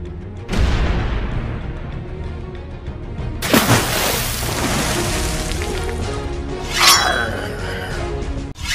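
A toy Fisher-Price Great Adventures pirate ship cannon fires, making a sudden loud boom, then a long rumbling explosion with crackle and a second burst before it cuts off.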